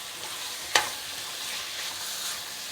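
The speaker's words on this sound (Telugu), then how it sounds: "ఇప్పుడు ఇవన్నీ బాగా కలిసేలాగా" Spicy chicken roast with turmeric, salt and spices stirred in a hot pan, steady sizzling with a sharp utensil scrape early on, close and loud.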